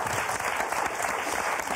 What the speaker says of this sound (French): Et applaudissements pour Kim Lee et Gladys